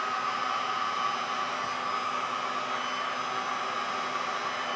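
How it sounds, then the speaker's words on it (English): A hair dryer runs steadily close by, heating resin on a canvas painting, a constant whirring hiss with a faint tonal whine and no break or change throughout. "So I'm going to heat it up and then use the blow dryer"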